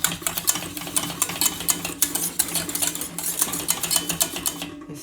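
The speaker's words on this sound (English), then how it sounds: "So you put half of it, whisk it well." A whisk beats milk fast into a sauce for scalloped potatoes, a close, rapid, continuous metallic clatter against the pan.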